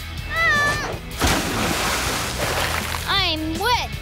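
Cartoon water splashes with a loud burst of spray at about one second and keeps washing over for a while, framed by whistling, warbling tones at the start and end.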